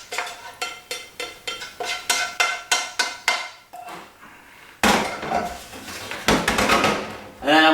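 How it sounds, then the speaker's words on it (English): Cooked minced steak scraped from a pan into a colander, a series of sharp metallic taps and knocks in quick rhythm, followed by louder clattering scrapes of utensil against metal. "So I'm basically transferring that to this colander."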